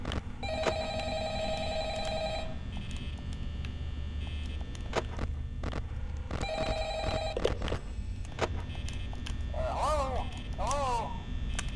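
Two rounds of the telephone ringing in the Five Nights at Freddy's video game, each a bright trilling ring of about two seconds and one second, over a steady low hum with brief clicks and game sounds between.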